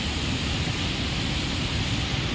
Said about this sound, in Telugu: ఒక జలపాతం లాగే ఉంటుంది.